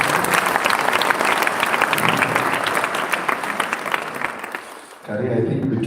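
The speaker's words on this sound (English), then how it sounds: "Let's give a big clap to Mama Jo." Memorial gathering crowd applauding for Mama Jo, a loud dense burst of clapping that swells and fades over several seconds before a voice starts speaking at the end.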